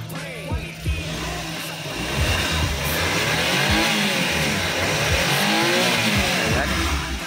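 A red Suzuki Every Wagon 4WD kei van engine revs up repeatedly, rising and falling pitch sweeps close by and loud, building over several seconds with no talk.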